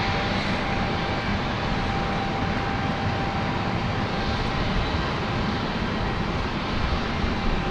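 A Boeing 747 passes high overhead near London City, its broad steady jet roar filling the whole stretch evenly and continuously, with no talk over it.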